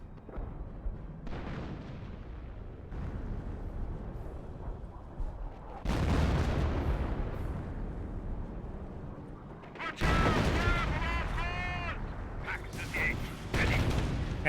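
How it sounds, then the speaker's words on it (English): Artillery fire in the strategy video game Company of Heroes, with heavy booming blasts and rumbling explosions arriving in several bursts over a noisy battlefield, with a commentator talking throughout. "We defended the Artillery now raining on in"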